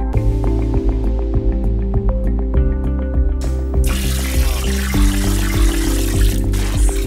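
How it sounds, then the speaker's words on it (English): A pump churns slurry premix of bentonite clay back into itself inside a waste management bin, making a loud, continuous mechanical drone with watery splashing and gushing that grows stronger midway. "We use the pump to help mix the premix back into itself into the bin."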